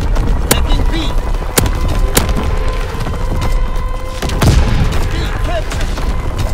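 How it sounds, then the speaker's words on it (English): Low altitude bombing run in Call of Duty: WWII, the Shipment 1944 Domination map, with sharp blasts and gunfire cracks over steady battle noise and occasional game voice callouts. "Low altitude bombing run. Inbound."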